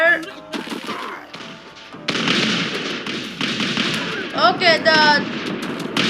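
Musket volleys crackle in a Totally Accurate Battle Simulator battle, a dense run of overlapping shots and bursts under a steady din of combat, with a voice speaking briefly near the start.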